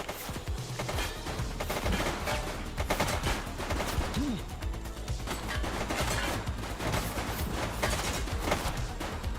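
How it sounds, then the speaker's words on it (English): Rapid gunfire in a police shootout with a suspect, dense overlapping shots and bursts sounding continuously and loudly throughout, with shouting voices mixed in among the chaos. "Shots fired!"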